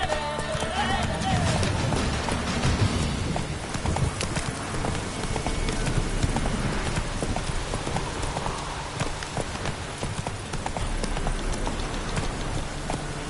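Geralt's horse Roach gallops in The Witcher 3, a steady clip-clop of hooves running close and continuous over falling rain, with a brief voiced command at the start.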